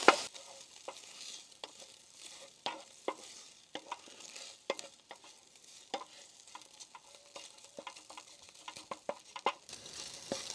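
Bacon rendering its fat in a pan on a campervan stove gives a soft, steady sizzle, with scattered sharp clicks and scrapes as it is stirred and turned. It runs on its own, with no talk.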